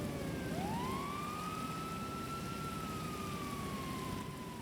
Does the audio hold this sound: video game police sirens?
yes